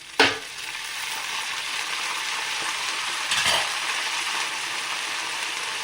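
Dried red chillies and curry leaves sizzle steadily in hot oil, a continuous crackling fry with a sharp burst at the start as they hit the pan and another brief flare midway.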